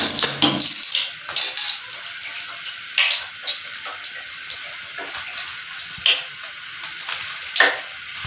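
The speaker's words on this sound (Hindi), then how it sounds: "इसी तरह व्यूअर्स आपने सारे समोसे फ्राई करने हैं" Potato samosas deep-frying in hot oil, a steady loud hiss and sizzle with dense crackling bubbles running throughout, no talking.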